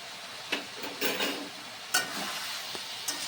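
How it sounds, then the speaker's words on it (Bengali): Chicken with ginger and spices fries quietly in a pan, a soft steady sizzle punctuated by several brief stirring scrapes, close and fairly faint, with no voices. "আর 2-3 মিনিট মতো ভালো করে আমি নেড়ে ছেড়ে কষিয়ে নেব।"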